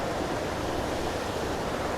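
Small woodland waterfall at Craflwyn near Beddgelert, North Wales, pours in a steady, dense broadband rush, close and constant with no voices.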